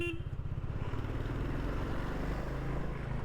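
A Royal Enfield Classic 350 single-cylinder motorcycle slows and settles into a steady idle with the clutch pulled in, a close, continuous low thumping engine note with no talking.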